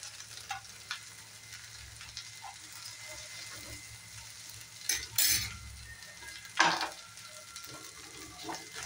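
Okra (bhindi) fries in a generous amount of oil with a soft, steady sizzle. A few louder clinks and scrapes of a utensil against the pan cut in partway through, and no one speaks.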